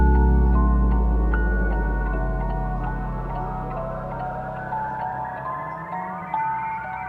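A short video game failure theme for when the player dies: a brief musical phrase with a deep low tone fading away under rising, wandering melodic notes, moderately loud and alone.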